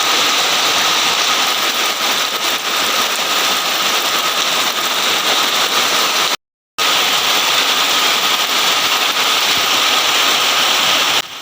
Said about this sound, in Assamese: আজিও বৰষুণ দি আছে, একদম দবাতপ বৰষুণ দি আছে।